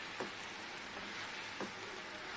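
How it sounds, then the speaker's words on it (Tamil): Sugar syrup for pineapple gummy candy bubbles in a pan, a faint, even simmer with occasional soft pops close by. "இப்போ வந்து கொதிச்சிட்ருக்குது. நல்லா கொதிக்கட்டும்."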